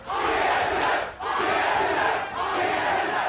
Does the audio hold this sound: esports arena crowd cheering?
yes